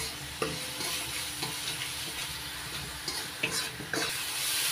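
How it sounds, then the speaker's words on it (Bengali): A spice paste with tomato paste is stir-fried in a pan for a soya and pointed gourd dish, a dense continuous sizzle with occasional scrapes of the spoon, close and fairly even in loudness, with no one talking. "এবার আবারও মশলাটা ভালো করে কষিয়ে নিচ্ছি।"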